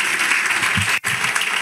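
A church congregation claps together in a dense, loud burst of applause that breaks off for a split second, then resumes just as strongly.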